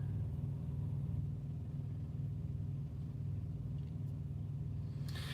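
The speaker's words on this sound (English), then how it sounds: "the idle in the trucks is set higher than a car" A truck engine idles at a raised, steady speed, a constant low rumble without revving, heard alone with no talk.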